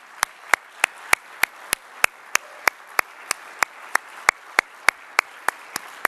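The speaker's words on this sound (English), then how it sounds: "let's give them a round of applause for the work they do on your behalf." Sparse, slow clapping at a mayors' summit plenary session, single sharp claps at a steady rhythm about every third of a second, distinct and close against a quiet room, as a few hands applaud the staff.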